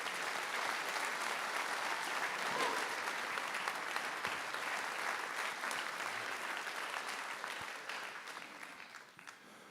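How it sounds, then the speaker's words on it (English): Sustained applause from a concert audience honoring marching band award winners, a dense steady clapping that fills the hall and tapers off toward the end. "How about one more round of applause for all of our award winners this evening?"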